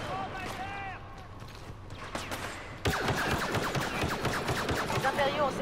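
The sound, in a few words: gunfire in Star Wars Battlefront video game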